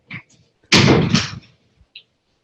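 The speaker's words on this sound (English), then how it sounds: "Let me shut this door." An indoor door is pushed shut with a single loud, close thud that rings briefly, preceded by faint rustling and followed by a small click, with no talking.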